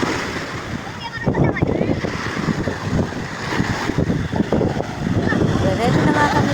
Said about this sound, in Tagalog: Lakas lang ng alon, no? Malakas ng alon.